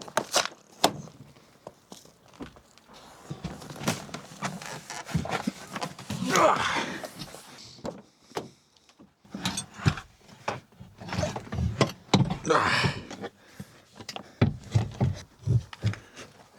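Clunks, knocks and rattles of a Sparco passenger seat being fitted into a BMW E36, irregular thuds and metal-on-metal taps at close range, with some rustling and movement between hits.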